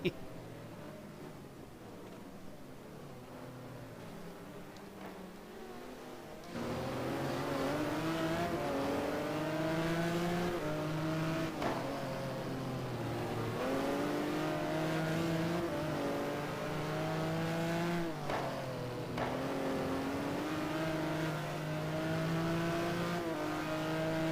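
A GT1 race car accelerates around Laguna Seca in a racing video game. Its engine note climbs in repeated rising sweeps through the gears, loud and close, after a quieter opening stretch.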